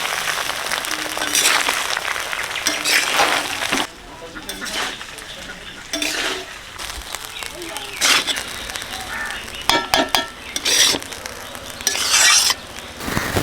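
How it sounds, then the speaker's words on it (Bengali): Rice is stir-fried with ground black pepper in a pan for fried rice, with a steady loud sizzle broken by repeated scraping and clanking strokes of the spatula against the metal, close up and continuous. "গোলমরিচের গুঁড়ো সব কিছু মিশিয়ে ভালো করে ভেজে নেবো ভাত"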